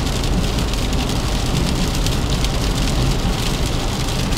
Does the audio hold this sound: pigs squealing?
no